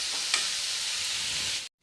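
Half-cooked tomatoes frying in oil in a pan for a tomato chutney, a dense, even hiss close by with one sharp crackle early on, then cutting off abruptly.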